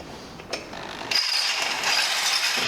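A drill bores through metal with a 9 mm bit on a budget Bobber 125 motorcycle build, giving a steady whirring grind that steps up sharply in intensity partway through and holds there, close and alone without talk.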